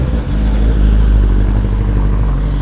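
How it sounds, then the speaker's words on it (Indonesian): Cars passing along a street in the afternoon, a loud continuous rumble of engines and tyres with a brief dip near the start, close by and unbroken. "Suara-suara mobil ini gue suka banget sih"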